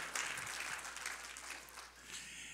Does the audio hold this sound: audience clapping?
yes